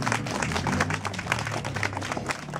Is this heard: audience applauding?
yes